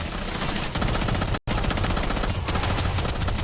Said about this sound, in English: Nice recoil control, Benja.